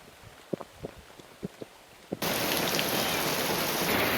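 Rain falls around a chicken coop in Kerala, starting as a few scattered drops tapping nearby, then abruptly becoming a loud, dense, steady downpour hiss.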